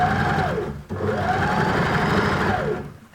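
A sewing machine runs fast and steady as it stitches a pressed hem on a scrubs top, with one brief dip in speed partway through its close, continuous whir.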